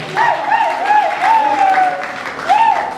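Applause for a professor at a stage show, a crowd clapping in a steady wash beneath a voice that speaks over it throughout.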